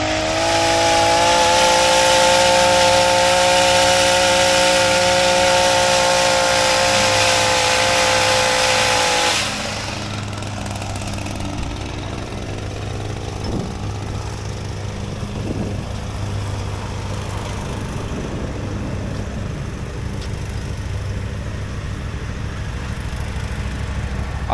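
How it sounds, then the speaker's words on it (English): A lawn mower cutting grass roars loud and close for about ten seconds, then drops to a lower, steadier idle hum that carries on to the end. "So we're gonna pass the mower just so everything looks uniform."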